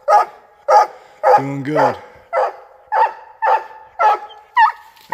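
A hunting dog barks steadily at an animal treed in the woods, with loud, close barks in a regular rhythm and a brief whining yelp partway through. Someone speaks briefly over the barking.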